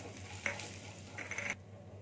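Chana dal and urad dal frying in oil in a pan give a steady, fairly soft sizzle with light stirring, which cuts off abruptly near the end with no talking.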